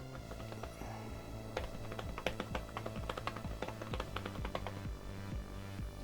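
Rapid, irregular clicking of keys with shallow travel being typed on an iPad Pro Smart Keyboard, close up and steady throughout, with a low hum underneath.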